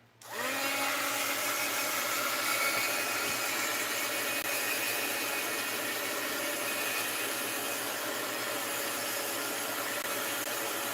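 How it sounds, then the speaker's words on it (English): A heat gun starts up and blows steadily, a constant whirring rush of air used on painted envelopes and mixed-media art tags. It is close and unbroken, with no speech. "let's hit that with the heat gun"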